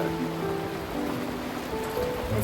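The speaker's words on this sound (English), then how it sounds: "might be the most rain we've ever had on the boat." Heavy rain pours down on a 25,000 lb sailboat during a squally night at sea, a steady, dense patter of drops that stays loud and even throughout with no voices.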